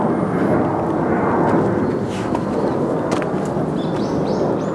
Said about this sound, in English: I'm like waiting for airplanes to go by